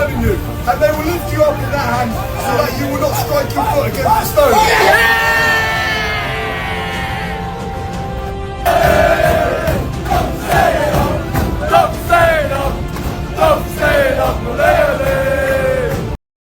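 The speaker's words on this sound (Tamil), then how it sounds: "இதை பார்த்த ஆடியன்ஸ் எல்லாம் கரகோஷம் எழுப்பி மிகவும் ஆர்ப்பரித்தார்கள்" A WWE wrestling arena crowd roars and cheers loudly, with yells and whoops rising over a constant crowd din and shifting surges of noise throughout.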